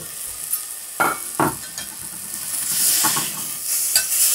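Meat sears in a Saladmaster stainless steel pan with a steady close sizzle and hiss, a few louder scrapes and stirring clatters in the first seconds, and no talking.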